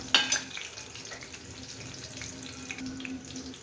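Green chillies frying in hot oil for a spicy homemade breakfast dish, giving a steady close hiss of sizzling with a sharp crackling burst at the very start.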